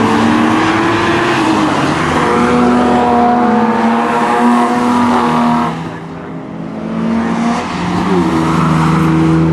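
Jaguar XJS race cars lapping Mallory Park circuit, engines roaring loud and close with sustained revving tones, one car's note dipping briefly mid-pass before the next sweeps in.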